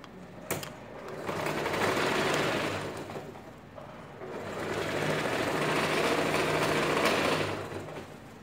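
A sewing machine runs in two long, steady bursts with a brief pause between, closing the crotch seam of children's cargo shorts; the whirring motor is close and fairly loud, with no voices.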